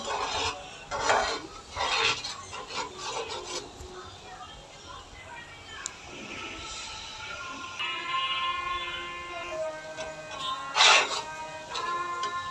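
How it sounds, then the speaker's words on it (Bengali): Fish kalia masala for katla fish is stirred and scraped in a pan as it fries, with irregular clattering and rasping strokes, some louder bursts near the start and end, and a faint voice in the background. "দেখুন আমার মশলাটা কষানো হয়ে গেছে"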